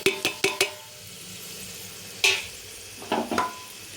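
Ground cumin, coriander and chili powder go into a pan over low heat. A quick run of spoon taps on the pan comes first, then a soft sizzle and a few scraping stirs, close and quiet.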